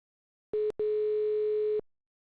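A phone call's line tone sounds alone: a short steady electronic beep, a brief gap, then a longer continuous beep of the same pitch that stops abruptly.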